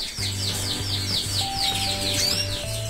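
Small song birds, freshly moved from an aviary into individual cages, chirp in rapid, repeated bursts close by, over a steady low hum and faint tonal beeps.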